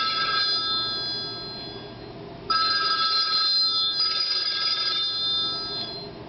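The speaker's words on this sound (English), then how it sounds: "and there goes the phone" A telephone rings steadily in bright repeated bursts, the ring loud and clear with no voices over it, pausing briefly before starting up again.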